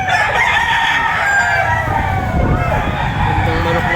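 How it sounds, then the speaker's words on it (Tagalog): A black kanawayon rooster at a poultry market in Batangas crows loudly and close, its drawn-out call rising over steady crowd noise and traffic hum. "Gandang manok nito."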